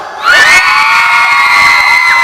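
A crowd at a mall midnight-sale stage event cheers and shouts, with high children's voices whooping together in a loud, sustained roar that swells after a brief quieter start.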